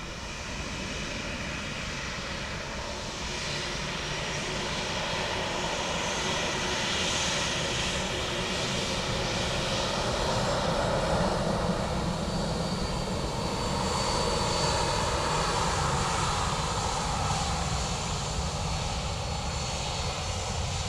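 An aircraft approaches to land on runway 28 left at Dublin Airport, its engine roar a steady, broad rumble that swells slightly and holds at a distance for the whole stretch.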